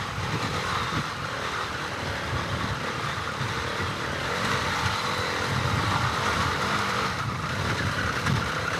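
A CCM GP 450 motorcycle engine drones steadily and close up on a steep road and trail climb, with a low, rough throb that shifts slightly as the rider drops a gear, alongside wind rumble and no talking.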